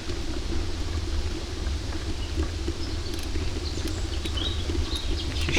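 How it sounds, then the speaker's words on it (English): Birds chirp along a riverside path by the River Trent, small faint calls scattered above a steady low rumble of outdoor noise, with no talking. "some nice birds around here."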